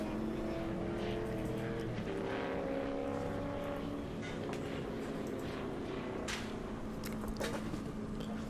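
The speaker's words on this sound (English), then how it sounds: "the Commodore has stopped drifting there for a little bit and has come out of drift there while trying to take the inside line just there" A Holden Commodore drift car's engine wails across a race track, revving and shifting pitch as it comes out of a drift and takes the inside line, heard at a distance amid crowd ambience.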